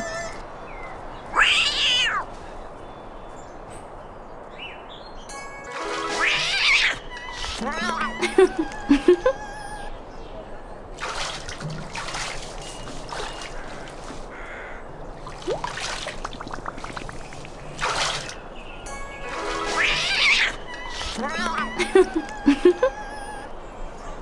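A cat meows several times in the Disney's Mulan Animated StoryBook video game, short rising cries spread across the clip over water trickling and pouring, with other game sounds and narration around them.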